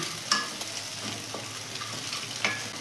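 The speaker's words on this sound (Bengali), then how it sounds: "এর ভেতরে আমি একটা ডিমকে ফাটিয়ে ভেজে নেব অল্প নুন দিচ্ছি দিয়ে এটা ভেজে নিচ্ছি" An egg sizzles in hot oil in a wok, with a steady crackling fry broken by a couple of sharper scrapes or taps near the start and end.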